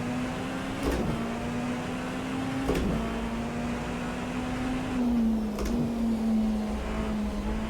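Race car engine in the Rennsport racing game holds a steady droning hum at one pitch, with brief sharper bursts as the throttle is blipped through turns, fairly loud and continuous with no talk.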